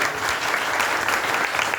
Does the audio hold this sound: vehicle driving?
no